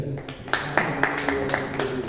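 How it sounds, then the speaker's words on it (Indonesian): Loud rhythmic clapping from a small Bible study group, sharp evenly spaced claps at a steady beat filling a room, with a voice faintly underneath. "Tepuk tangannya yang keras."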